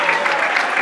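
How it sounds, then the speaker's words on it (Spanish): Brief burst of crowd applause for raffle winners at an award ceremony, steady clapping from many hands with some voices mixed in. "un aplauso para ellos"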